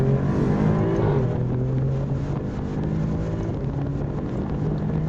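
A 2024 Alfa Romeo Giulia Quadrifoglio drives on a track with a sustained, droning engine held at high revs. Heavy wind noise sits over it throughout, and the engine note stays loud and fairly steady.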